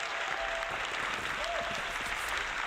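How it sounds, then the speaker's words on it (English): Warm applause from an audience, a steady wash of clapping throughout at moderate volume, with no one speaking over it. "Thank you for that warm round of applause"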